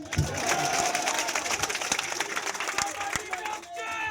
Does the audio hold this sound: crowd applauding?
yes